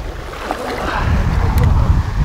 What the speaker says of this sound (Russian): Волна, там волна.